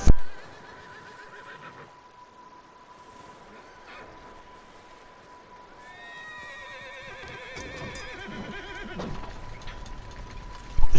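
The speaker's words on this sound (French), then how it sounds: "Il y a des chevaux qui viennent de s'enfuir de là-bas." Horses in the video game Red Dead Redemption 2 run off from a cabin. Loud whinnies sound over the rhythmic clip-clop of hooves, with a steady tone underneath and sharp bursts at the start and end.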